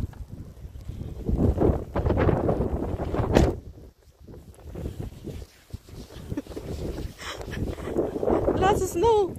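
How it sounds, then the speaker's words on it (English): Gusty wind roars and buffets the microphone during a snowstorm while people talk over it, with a few higher chirping sounds near the end. "Oh my god, it's so windy."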